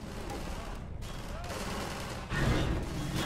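Continuous gunfire in Half-Life 2 as ally NPCs shoot at soldiers, a dense rattling barrage with a louder burst near the end, loud and busy without pause.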